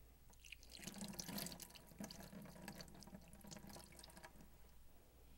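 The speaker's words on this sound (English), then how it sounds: "And then rinse with clean water." Clean tap water runs steadily over the end of a thermometer at a sink during hand rinsing, a continuous close splashing flow with faint drips throughout.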